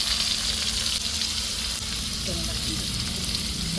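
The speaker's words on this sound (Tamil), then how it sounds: "வெங்காயம், இஞ்சி, பூண்டு எல்லாம் எடுத்து வச்சுருக்கதை போடுறோம்." Onion, ginger and garlic tip into a pot of hot oil with spices and fry with a loud, constant hiss. The sizzle stays close and dense throughout, with faint stirring underneath.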